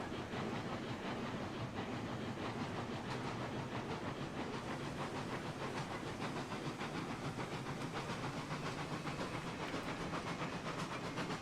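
A steam locomotive in the game RailRoads Online chugs along hauling a heavy load, a steady quiet mix of rhythmic chuffing, hiss and rolling rail noise with no break.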